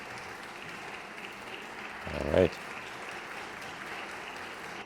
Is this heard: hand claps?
yes